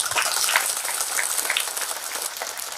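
A village audience at a Hindi spiritual discourse claps in a dense, steady burst of applause that fills the whole moment at even strength, with no voices over it.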